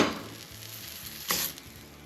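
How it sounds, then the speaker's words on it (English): Wild hog breakfast sausage sizzles in a hot skillet, a steady crackling fry that swells briefly when the meat hits the pan, heard close with no voices. "So I just take a little bit, throw it in a hot skillet."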